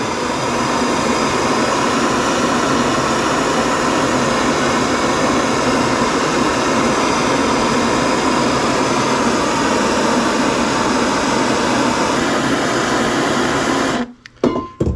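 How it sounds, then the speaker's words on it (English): A MAP gas torch roars in a steady, loud, broadband hiss while heating a part during a K-series limited-slip differential install on an RSX Type S, cutting off abruptly near the end. "We will light our torch first. We just have a map torch. Just gonna heat it up."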